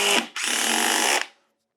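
DeWALT quiet impact driver sinking a 3-inch fastener into wood at speed 1, a smooth steady whir lasting about a second after a brief start-and-stop, close and fairly loud, then silence.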